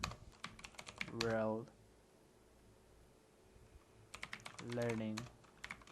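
Someone types Java code on a computer keyboard: rapid bursts of clicking keystrokes come near and clear at the start, middle and end, between stretches of someone speaking.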